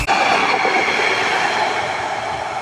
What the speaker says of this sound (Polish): Przez stację przejdzie pociąg.